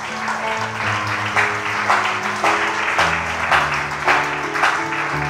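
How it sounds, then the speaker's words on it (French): A church congregation applauds and cheers in praise of God, a steady wash of clapping over sustained music, loud and continuous with rhythmic swells throughout. "Et acclame Dieu encore ce soir, vraiment pour tout ce qu'il dit."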